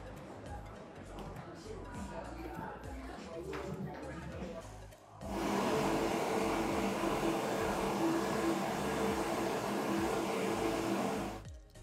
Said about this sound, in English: just chuck it through the hand dryer in the bathroom